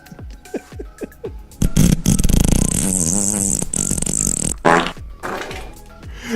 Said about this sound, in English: I need that fart noise and the ooh for the Joneses